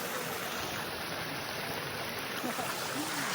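Water pours over a large weir in a steady, dense rush that holds at an even level throughout, with no voices standing out.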